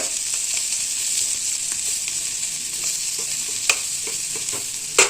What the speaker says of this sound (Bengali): এখানে এই যে উচ্ছেটা ভাজা হচ্ছে